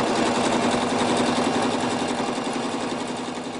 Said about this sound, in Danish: Så tager vi lige lange siderne og kører zigzag, så vi simpelthen får zigzagget hele vejen rundt.